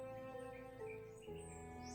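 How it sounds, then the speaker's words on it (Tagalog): Faint bird calls come from the mountain forest, with thin chirps over a quiet, steady background hum. "Mga busis ng ibon at kakaiba yung marinig natin dito sa bundok tol."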